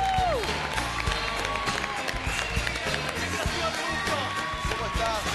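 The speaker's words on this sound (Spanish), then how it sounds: "Este es el aplauso para recibir a Yerko Puchento." A television studio audience applauds and cheers to welcome Yerko Puchento on the show, with music and voices mixed in over the clapping.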